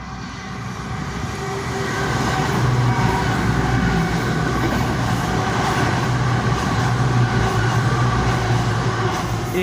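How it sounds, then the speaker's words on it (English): A fast train passes through Dawlish station, its loud, steady rumble and rush of wheels on rail building over the first two seconds and then holding close and heavy until the end, with no voices. "Fast train now approaching platform 2."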